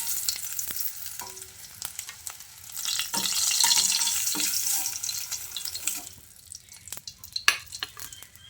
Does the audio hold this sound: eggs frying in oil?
yes